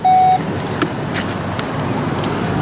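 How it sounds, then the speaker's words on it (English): 2018 VW Tiguan SEL Premium engine running at a low, steady hum, opened by a short electronic chime, with faint faraway clicks. "Engine is running."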